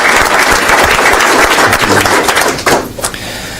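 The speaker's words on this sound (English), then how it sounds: "Let's give him a round of applause for that." Loud, dense applause at a city council meeting honoring an Army veteran, many people clapping close by in a room, tapering off near the end.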